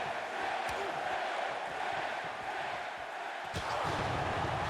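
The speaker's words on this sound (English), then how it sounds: "Fans cheer for Jade." A dense, steady roar of arena crowd cheering fills an AEW Fight Forever wrestling match, with a couple of sharp impacts cutting through the constant noise.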